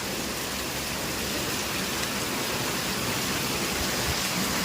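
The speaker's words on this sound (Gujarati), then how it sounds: "અમારે તો જો બહુ જોરદારનો વરસાદ છે" Heavy rain pours down outdoors in a dense, steady hiss with a low rumble beneath it, even and loud for the whole stretch, with no voices over it.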